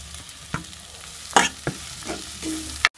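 Onions sauté in a pan for chicken curry, a steady close sizzle broken by several scraping stirs of a spoon against the pan.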